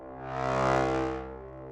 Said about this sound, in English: Let's put some nice growly brass in just to wake the audience up